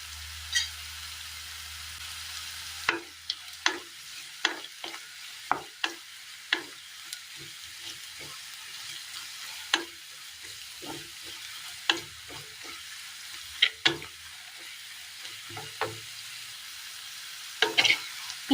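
Ginger sizzles softly in a pan for a Kerala recipe, the quiet frying hiss broken by frequent sharp spatula scrapes and taps at an irregular pace, with no voices.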